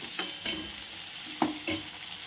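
Carrot and capsicum being lightly stir-fried in a pan, a few distinct scraping stirs over a low sizzle, close and quiet, three or four strokes in quick succession with no talking.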